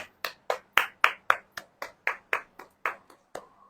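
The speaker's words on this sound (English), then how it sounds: "Let's clap there." Hands clap in a slow, regular group rhythm, about fourteen sharp, crisp claps evenly spaced roughly every quarter second, close by in an otherwise quiet room, during a guided energy session.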